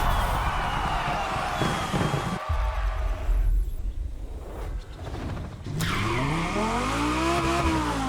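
A Lamborghini Terzo Millennio races in The Crew Motorsport, its engine holding a loud, steady whine before tires squeal in a skid and a rising, sweeping engine note returns near and constant, with no talk.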